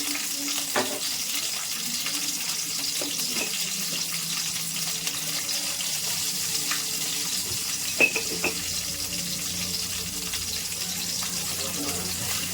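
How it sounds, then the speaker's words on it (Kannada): A bajji ingredient fries in a little oil with a pinch of salt, making a soft, steady sizzle with a few light clinks and stirring sounds throughout. "ಸ್ವಲ್ಪ ಎಣ್ಣೆಯಲ್ಲಿ ಅದನ್ನು ಫ್ರೈ ಮಾಡ್ಕೋಬೇಕು"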